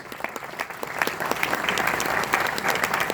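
A crowd applauds steadily, a dense patter of many hands clapping that swells slightly and holds strong throughout.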